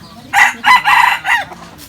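Several chickens and a rooster on a rural farm where buffalo and pigs are also kept, crowing and clucking in four loud, close bursts with short pauses between them, no voices present.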